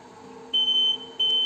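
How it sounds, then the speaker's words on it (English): Two sharp, high electronic beeps from a ZM-R7220A BGA rework station signal the end of heating, sounding over a quiet machine hum, the first longer than the second. "You hear the beep?"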